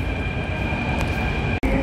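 A Delhi Metro train rumbles steadily from inside the carriage, with a continuous loud roar and a brief dropout near the end, and no speech.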